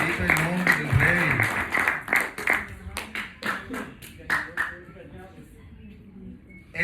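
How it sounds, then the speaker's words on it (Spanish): A crowd at a religious gathering claps for the king, a burst of hand claps under a voice, with the claps thinning into scattered taps before fading out. "Eso merece un aplauso."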